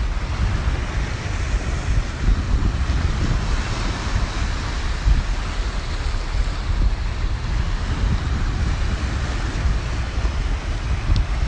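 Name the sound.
waves on Lake Sevan, Armenia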